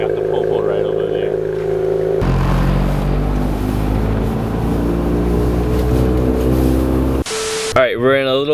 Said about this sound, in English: Do you guys think the car is too loud?